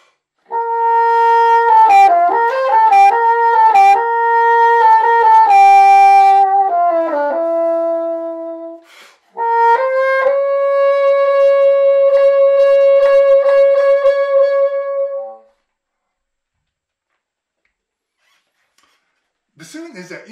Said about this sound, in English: sounds like this, and this is from Maurice Ravel's famous Bolero.